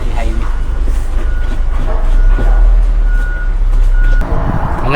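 A truck on a roadside in La Union, Philippines, sounds loud, steady reversing beeps under a constant rumble of passing vehicles and engine noise.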